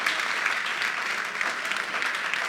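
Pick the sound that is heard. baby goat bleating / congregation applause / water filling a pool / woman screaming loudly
congregation applause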